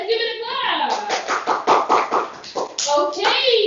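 A class of young children claps after a story, with a quick, uneven patter of small hands in the middle, framed by a teacher's and children's voices before and after.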